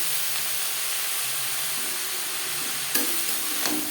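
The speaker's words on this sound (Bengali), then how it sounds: "শিম বেগুনির সাথে বেসর শাক বেশ ভালো করে মিক্স করে দেবো" Greens being stirred and fried together with beans and eggplant in a pan, a steady close sizzle running throughout with a couple of brief scraping stirs near the end, and no voices.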